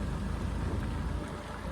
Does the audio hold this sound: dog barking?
no